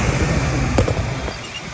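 A bus engine labours uphill on a hill road under load, a steady loud low drone with continuous road noise throughout.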